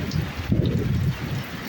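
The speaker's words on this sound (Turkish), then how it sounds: "şu yağan yağmura bakın." Heavy July summer rain pours down in Izmir, Turkey, flooding the area; a dense, steady hiss of downpour with low rumbling patter fills the short stretch alone.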